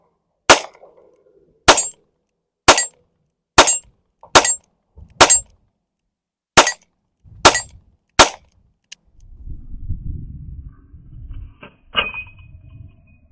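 Eight sharp, evenly spaced gunshots from an H&R 999 Sportsman .22LR top-break revolver crack out one by one outdoors, loud and close, followed by quieter handling rumble and a faint clink.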